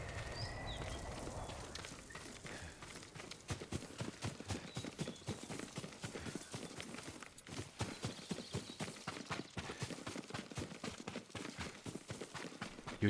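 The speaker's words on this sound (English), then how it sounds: "Yuriko's horse. She can't be far." A horse gallops in the Ghost of Tsushima video game, a fast, steady clip-clop of hooves held at a moderate level for over ten seconds, with faint birdsong in the background.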